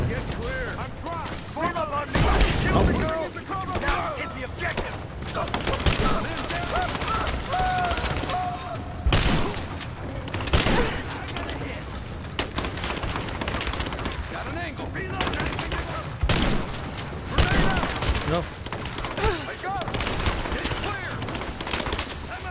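Rapid bursts of automatic gunfire and scattered single shots in the Rise of the Tomb Raider video game, repeating throughout at moderate volume with people talking over the action.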